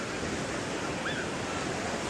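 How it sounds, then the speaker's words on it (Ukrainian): Strong Atlantic ocean waves breaking on a beach in Morocco, a loud, continuous roar of surf and wash filling the whole moment with no talk. "В океані не поплаваєш, як у морі. Подивіться, такі хвилі, вони збивають з ніг."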